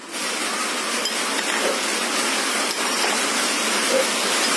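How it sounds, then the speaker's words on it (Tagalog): Steady rain pours down outdoors, a dense, even hiss that holds constant with no talking over it. "umuulan na po"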